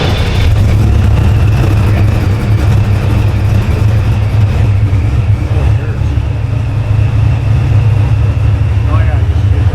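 Chevrolet Camaro 1LE with an ARH full exhaust rumbling loud and close with a deep, steady low-end drone, while people talk over it inside the car.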